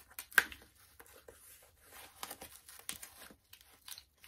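Plastic packaging around a comic book is cut and torn open in short crinkly rips and rustles, close by and fairly quiet, with no one speaking.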